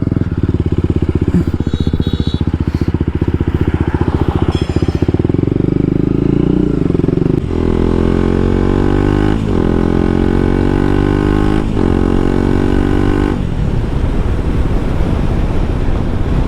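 A motorcycle engine runs loud and steady throughout, its pitch climbing and dropping as the rider shifts through gears and accelerates.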